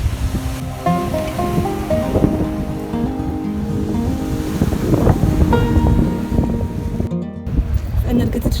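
Ocean waves wash onto Cala Tinnari beach in Sardinia, with steady surf and gusting wind noise over the microphone, while a voice talks and music plays softly underneath.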